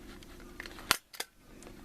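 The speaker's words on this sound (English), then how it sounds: "staple the remaining edge there" A single sharp stapler snap fastens a folded duct tape flap on a homemade cosmetic bag, followed by a second softer click, close and crisp amid quiet handling noise.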